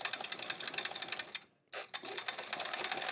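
Rapid, even machine stitching from a sewing machine doing free-motion quilting on a quilt-as-you-go block, close and continuous, with one brief pause before the whir resumes.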